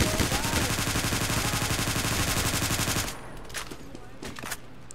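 Rapid machine-gun fire in the Roblox game Evade, loud continuous bursts for about three seconds, then sparse scattered shots and faint thuds.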